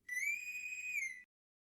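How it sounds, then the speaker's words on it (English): A whistle sound effect on a podcast: a single clean, steady whistle tone lasting just over a second, loud and alone with no talking over it. "Play the whistle."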